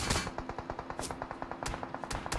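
Distant automatic rifle fire in the mobile battle royale Peacekeeper Elite, aimed at a car: steady rhythmic bursts of shots, fairly faint and far off, with a couple of sharper cracks mixed in.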